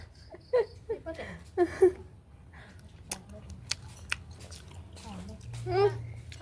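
Someone chews and bites ripe orange jackfruit close by, with wet smacking and mastication sounds in bursts, interrupted by quiet talk and a few sharp clicks.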